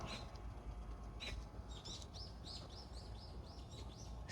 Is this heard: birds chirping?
yes